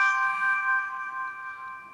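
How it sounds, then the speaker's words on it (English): A phone chimes with an incoming text message, a single bright bell-like ding that rings out and slowly fades over about two seconds, close and clear with no talking. "Oh, look at that, another text."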